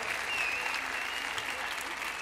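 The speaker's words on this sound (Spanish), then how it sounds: "démosle un fuerte aplauso a Manuel Morales, realizador" An audience applauds Manuel Morales, a filmmaker, at a pro-life rally; dense, steady clapping from a crowd fills the whole stretch, loud and close.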